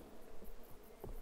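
Bees, moths and other insects swarm around flowering pasture plants full of nectar and pollen, a faint, steady buzzing heard alone for a brief moment.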